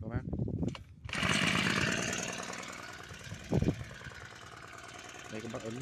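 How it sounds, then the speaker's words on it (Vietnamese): Small engine of a remote-controlled pesticide sprayer starts and runs with a loud, buzzing, chainsaw-like drone, a short burst of speech near the middle. "nổ máy cho các bác."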